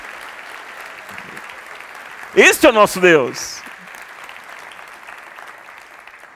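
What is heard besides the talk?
congregation applauding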